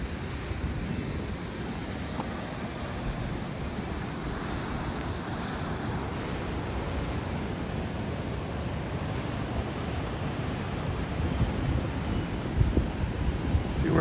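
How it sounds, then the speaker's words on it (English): Ocean waves wash and surge beneath an undercut coastal cliff, a broad, steady roar with wind buffeting the microphone throughout. "Where it's undercut the cliff there, just the waves."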